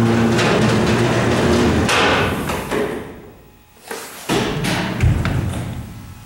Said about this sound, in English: Go ahead and close the doors.